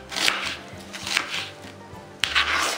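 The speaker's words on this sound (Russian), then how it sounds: "Я лук крошу как придется" A knife chops an onion on a board in quick uneven bursts of sharp taps, close and moderately loud, with short pauses between.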